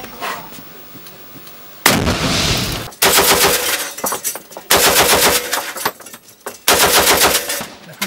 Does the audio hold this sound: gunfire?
yes